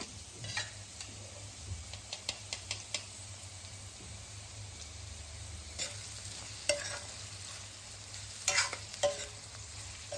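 Turmeric being sautéed in oil with chopped onion, green chili and okra, a quiet background sizzle under a low hum, punctuated by repeated light scraping and clicking stirs in quick clusters.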